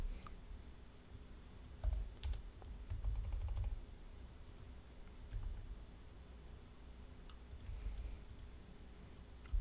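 Someone types on a computer keyboard while coding HTML and CSS: quiet, close keystrokes come in short irregular bursts separated by brief pauses.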